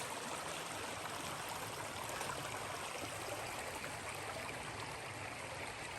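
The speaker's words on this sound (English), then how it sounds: "Down here enjoying the shade by the creek." Creek water flows in a steady, soft, even rush, with no breaks and no voices.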